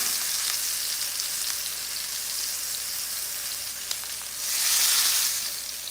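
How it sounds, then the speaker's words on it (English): Panko-crusted rack of lamb searing in a very hot pan: a continuous close hiss of sizzling fat that swells louder near the end, with no voices. "we want to get a good sear on this"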